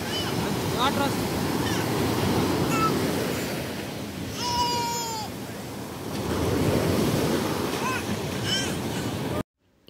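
Ocean waves wash onto Pondicherry beach in loud, rolling surges with wind buffeting the microphone, a brief voice-like call in the middle, and the sound cutting off abruptly at the end.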